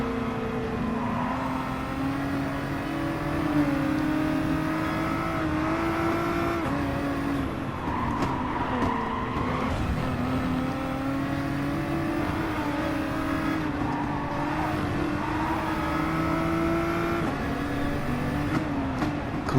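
GT3 race car engine lapping the Bathurst circuit in a racing video game, a steady loud drone whose pitch climbs and dips through gear changes for the whole stretch, with no talk over it.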